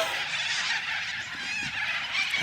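Harsh, shrill bird screeching carries on without a break, a flock of parrots in Australia calling loudly over one another, no voices.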